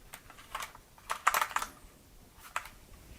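Typing on a Flydigi Scorpion D1 one-hand keyboard: soft, scattered key clicks in short bursts, quiet and close, with no talking.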